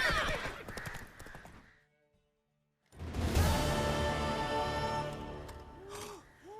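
In The Witcher 3, a horse gives a short snort, then after a pause lets out a loud, drawn-out neigh, close by, over quick hoofbeats.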